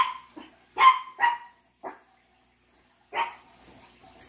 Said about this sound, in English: dog barking in the background.